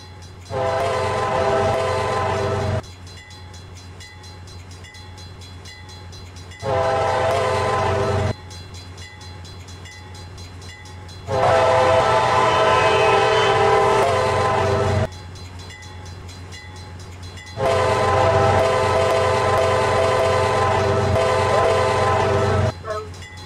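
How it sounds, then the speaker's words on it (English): Loud, sustained train horn blasts in a Roblox railcam game, repeating in long bursts with quiet gaps between, the last ones longest, over a low rumbling background. "Train horn is so loud."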